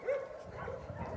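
A dog gives a short whiny yip or bark up close, followed by soft whimpering noises against low background rumble and room noise.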